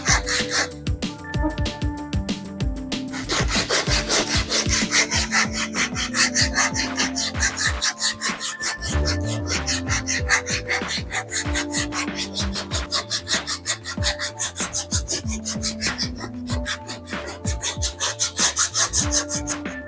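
Akar mimang root wood is smoothed by hand, a continuous rhythmic rasping and rubbing with repeated quick strokes, close and steady throughout with no voices.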